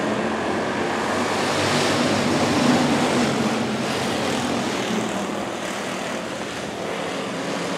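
Stock cars race at a speedway just after the green flag, a dense, continuous engine roar of the pack running three wide through the turns, loud and sustained with no clear talk.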